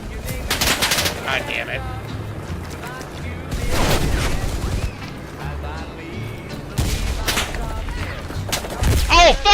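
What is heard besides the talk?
machine gun fire in video game Enlisted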